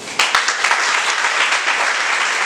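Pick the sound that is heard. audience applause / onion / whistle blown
audience applause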